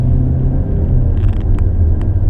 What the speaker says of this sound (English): Getting a little bit of an exhaust note with the shifter, with the select shift.